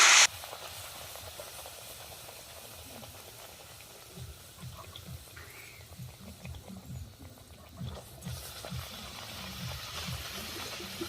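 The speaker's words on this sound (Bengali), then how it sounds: "লুচিগুলোকে একটু ভাজা আপনাদের সাথে শেয়ার করছি" Luchi (puffed flatbread) fry in hot oil with a steady, soft sizzle and bubbling hiss, fairly quiet and close, with no talking.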